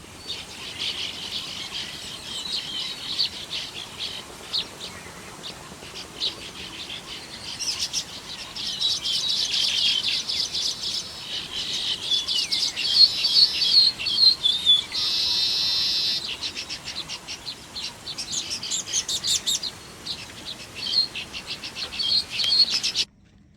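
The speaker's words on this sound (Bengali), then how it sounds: "অনেক দূর থেকে বাবুই পাখিদের ডাকাডাকির শব্দ শোনা যাচ্ছিল।" Baya weaver birds chatter and call around their nest colony in a palm tree, a busy overlapping chorus of high chirps and buzzy trills with insects droning underneath, moderately distant and steady throughout.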